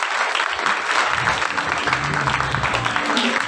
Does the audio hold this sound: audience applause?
yes